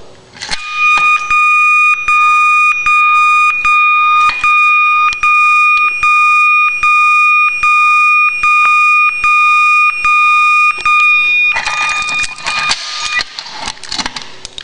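New fire alarm siren set to an interrupted tone being tested, a loud piercing steady electronic tone pulsing in regular beats for several seconds, then a harsher, noisier alarm sound near the end.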